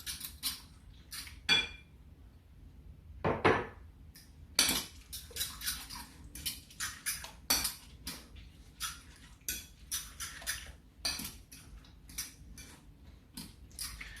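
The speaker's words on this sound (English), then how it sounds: "Then you mix with your 3 eggs." Three eggs being mixed into a salmon cake mixture with a utensil, heard as a steady run of light clinks and taps against the bowl, close and fairly quiet, with no talking.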